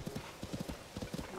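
Horse hooves clip-clop in Zelda: Tears of the Kingdom, a quick irregular run of close hoof strikes over a soft game backdrop.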